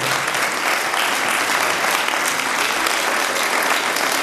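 An audience applauds the children at an evening event about the story of a park, steady dense clapping filling the room at full volume throughout with no talk over it.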